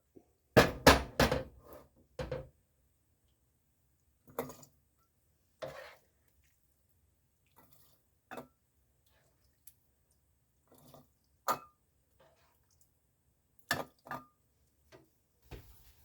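Taco meat is ladled into glass canning jars, with sharp clinks of the ladle against the glass and soft wet plops in scattered, separate strikes, close by and otherwise quiet, with no talking.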